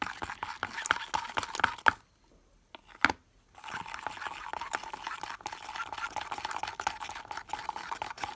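Homemade clear slime made with sugar is stirred in a bowl: quiet, sticky clicks and scrapes in a busy rhythm, broken by a short silence with a couple of isolated taps, then steady stirring resumes.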